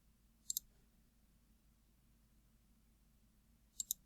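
Two brief, faint mouse clicks while working in CAD software assembling a climbing wall, one near the start and one near the end, separated by a long quiet stretch with low background hum.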